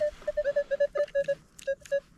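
Metal detector tones sound while searching near a former holiday resort: a quick run of short electronic beeps in uneven rhythm, close and clear, with no speech over them.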